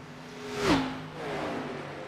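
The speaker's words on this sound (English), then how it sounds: "listen to that change in engine sound between the 81 of Plout and the lapped car that had driven by them" A race car engine sweeps past on the Auto Club Speedway track, rising to a loud whine and then dropping in pitch as it moves away, with a second car's engine following.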